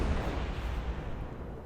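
Continuous heavy rumble of naval gunfire from the Zao cruiser firing salvo after salvo in World of Warships, thick booming roar with no gaps, loud and close, no voices.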